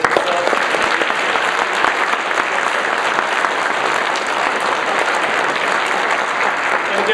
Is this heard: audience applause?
yes